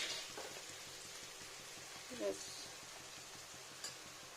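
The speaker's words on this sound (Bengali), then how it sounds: "আর একটু ফ্রাই হোক কাঁচা লঙ্কাটা সুন্দর ফ্রাই হয়ে গেছে" Green chili frying in oil in a pan for a Bengali mrigal fish curry, a faint steady sizzle with soft crackles and a stirring scrape, quiet and close.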